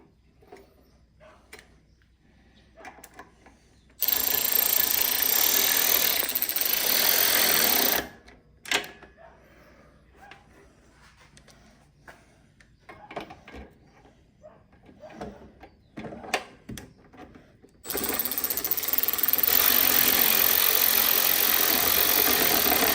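Power driver starting bolts on a lawn mower during a tune-up, two long loud whirring bursts separated by quieter handling clatter.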